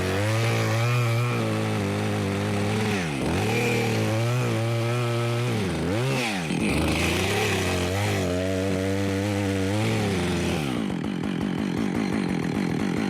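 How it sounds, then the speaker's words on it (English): A freshly sharpened chainsaw runs close by in the bush, revving up and down several times in a loud, rasping whine before settling into a rougher idle. "let's see how sharp the chainsaw is"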